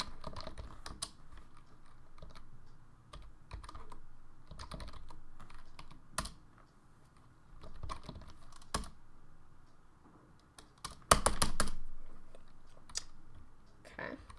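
Typing on a computer keyboard at the diskpart command prompt: irregular bursts of close key clicks with pauses, ending in a quick cluster of firmer keystrokes.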